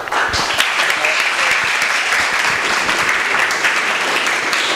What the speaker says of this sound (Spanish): que nosotros le demos el aplauso